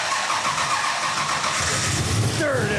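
A classic American car that had sat unused for a while is started up, its engine catching and settling into a steady, loud rumble close by, with a person talking over it.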